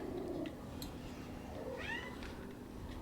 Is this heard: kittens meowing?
yes